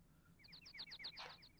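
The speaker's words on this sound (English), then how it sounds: "Hark, Super Nintendo Birds." Bird chirps from the Super Nintendo game Clock Tower: a quick series of bright, short chirps repeating in an even rhythm, fairly close and clear over a faint low hum.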